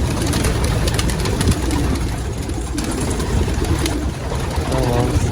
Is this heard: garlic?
no